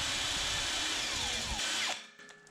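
A brake hone spins steadily inside rusty pin holes on a silage grab, giving a loud, continuous whirring drill drone that winds down and stops near the end.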